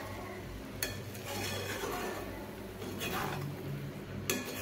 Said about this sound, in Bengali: এবার এখানে আমি 2টো চেরা কাঁচা লঙ্কা দিয়ে আরও একটু এইভাবে আমি নেড়ে নিচ্ছি।